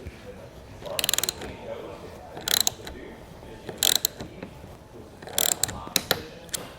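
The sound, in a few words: tightening roof rack bolt with 10mm wrench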